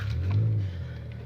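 Engine drone from a 2015 Toyota Vios G3 1.5J turbo being driven, a steady low rumble that swells slightly then eases, close and continuous with no voices.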